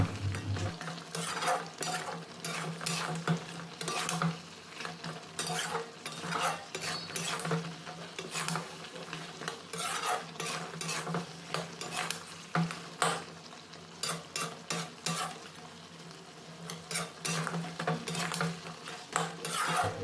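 Chicken feet curry stir-fried in a pan, with steady repeated scraping and clinking of a metal spoon against the pan over a low sizzle, continuous and fairly close throughout.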